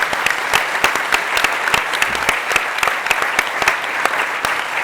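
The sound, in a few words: audience applause at a closing ceremony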